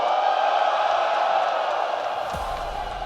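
A crowd at a Counter-Strike 2 esports final cheers loudly and steadily, a dense, sustained roar that fills the room before settling slightly toward the end.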